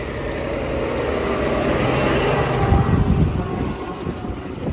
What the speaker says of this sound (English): I've had to come off the road to let a tractor pass.